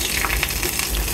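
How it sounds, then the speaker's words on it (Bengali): Potato chop frying directly in hot oil, a steady close-up sizzle and crackle with no pauses and no talking. "ডিরেক্ট তেলের মধ্যে আমরা এই চপটা ভেজে নিই"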